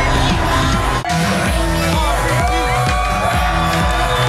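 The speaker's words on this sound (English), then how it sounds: "Look at that crowd out here in Times Square" A large outdoor crowd cheers and whoops in Times Square at a morning TV broadcast, a loud continuous roar with yells and children's shouts over music, with a brief dip near the one-second mark.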